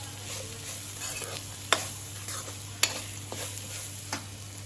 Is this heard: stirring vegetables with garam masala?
yes